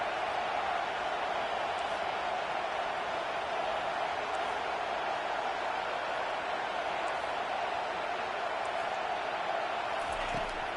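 Football stadium crowd at a college or NFL game cheers in a steady, broad roar that holds evenly throughout, dense and continuous like distant massed voices.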